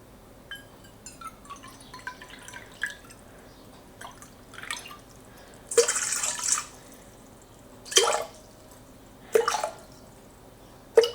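Lukewarm water being poured for sourdough bread dough, coming in a few short splashing bursts separated by quiet gaps, close and moderately loud.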